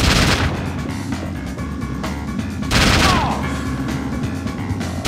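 Gunfire in the video game XIII comes as loud, rapid bursts of shots with booming reports, two heavier blasts standing out against a constant rumble of in-game action.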